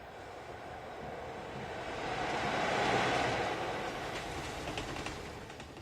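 A train passes in a film scene, a steady rumbling roar with rail clatter that swells toward the middle and then eases slightly, with no talk over it.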